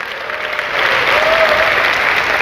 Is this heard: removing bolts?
no